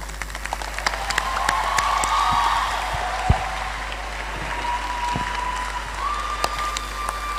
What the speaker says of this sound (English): Let us keep clapping.